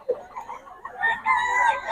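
Rooster at a roadside poultry market in Bocaue, crowing once nearby in a short, fairly loud call amid light market background noise.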